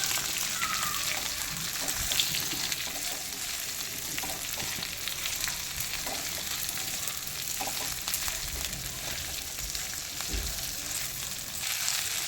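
About 500 grams of okra fries in oil, a dense continuous crackling sizzle like light rain, close and steady throughout, with a few faint stirring taps and no speech.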